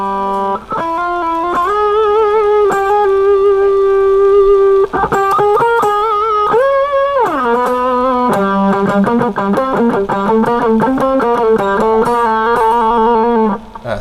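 Electric guitar through an M-VAVE Blackbox amp simulator, sustained chords and bent notes ringing out, then a faster run of picked notes, loud and continuous with no talking.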